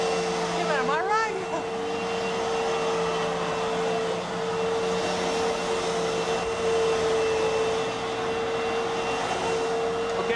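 A Fantom Fury vacuum cleaner from 1998 runs at a steady, loud whine with a strong constant tone and airy rush, alone for the full stretch.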